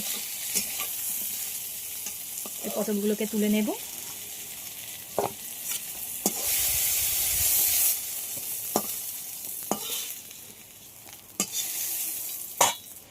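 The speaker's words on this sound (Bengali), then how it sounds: "পটলগুলো খুব ভালোভাবে ভেজে নিয়েছি" Pointed gourd pieces fry in hot oil in a pan, a steady sizzle running throughout with scrapes and knocks of a spatula stirring, while a voice speaks briefly over it.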